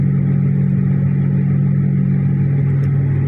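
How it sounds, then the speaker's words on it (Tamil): A worn wheel bearing on a Hyundai i20 car gives off a steady, loud low hum that stays constant beneath road and engine noise throughout. "i20 இந்த வண்டியில் பார்த்தீங்கன்னா வீல் பேரிங் ஹம்மிங் சவுண்டு ஊன்னு ஒரு சவுண்டு கேட்குது."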